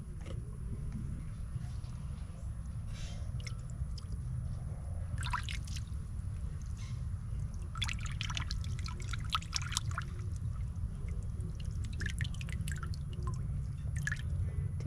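A senior monitor lizard drinks from water, producing faint, intermittent wet laps and drips over a low steady hum.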